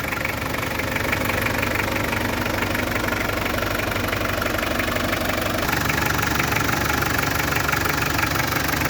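A 2003 Mitsubishi Strada 2.8 GLX diesel pickup engine runs steadily and loud, with a knocking idle that holds through the whole stretch and shifts slightly in pitch near the end as the throttle changes.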